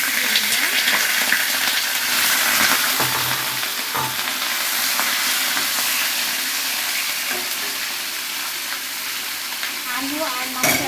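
Broiler chicken meat sizzles loudly in a hot pan over medium-low heat, a steady close frying hiss with occasional stirring scrapes and clatters running throughout.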